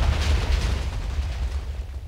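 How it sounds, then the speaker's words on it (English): A guided missile arrow explodes in Minecraft 1.9, giving a short, loud, rumbling blast that decays over about two seconds. "as you can see, that is definitely a guided missile"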